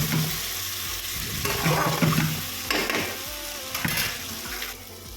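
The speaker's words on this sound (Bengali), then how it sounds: "আদা রসুনের কাঁচা লঙ্কাটা যতক্ষণ না চলে যায় একটু ফ্রাই করে নেব" Ginger, garlic and green chilli paste frying with onion and tomato for a bhetki fish curry: a continuous close sizzle with intermittent spatula stirs and scrapes, fairly loud.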